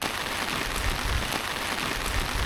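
Heavy rain pours steadily, a dense, continuous wash of hiss with a low rumble beneath, loud and unbroken throughout.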